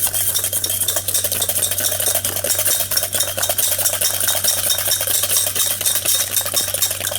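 Yogurt mixed with cumin powder, turmeric, Kashmiri red chili powder and salt for chicken korma, a close, steady rhythm of spoon strokes scraping and clinking against the bowl.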